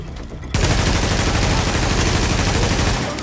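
Sustained, loud automatic gunfire from Tom Clancy's The Division, a post-apocalyptic shooter, begins abruptly after a quiet half-second and continues as a dense, unbroken barrage to the end.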